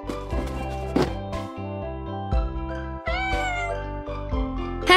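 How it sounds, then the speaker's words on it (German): A cat meows several times, high and plaintive, over a steady background of music with tonal chords. "Es ist ein Kätzchen."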